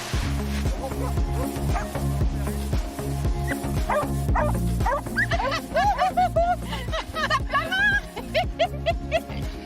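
Several dogs bark and yip excitedly while running and playing outdoors in Brittany, loud repeated barks with whimpers mixed in, and people talking over them.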